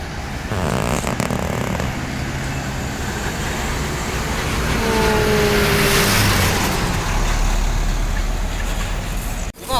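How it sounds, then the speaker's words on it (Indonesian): A Palala bus arrives through a traffic jam in West Sumatra, with a steady, loud road roar and engine drone that swells midway as it passes close, and brief tonal squeals over the din. "ini dia kedatangan bus Palala"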